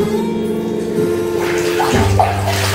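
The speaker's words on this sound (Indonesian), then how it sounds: "Kita siram air yang netes dari rambut, kita telan ya." Water pours and splashes steadily, as if from a dipper or running tap, during a ritual bath where water is poured over the hair; a continuous close gushing without speech.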